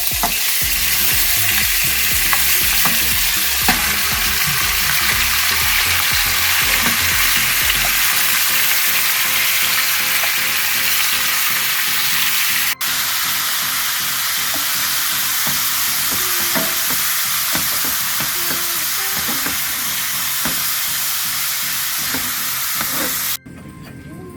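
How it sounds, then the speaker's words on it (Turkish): Steady loud sizzling and crackling of meat frying in melted fat in a pot for kavurma, a continuous hiss with occasional pops and stirring clatter, no voices. "Eriyen yağımızı tenceremize etlerimizi ilave ediyoruz."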